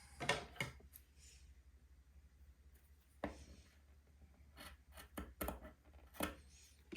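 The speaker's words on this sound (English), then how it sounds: "I need to cut 2 pieces of beading" Scissors snip through fabric beading in a quiet sewing room, a few soft close crisp cuts and rustles scattered among faint handling noise, no voices.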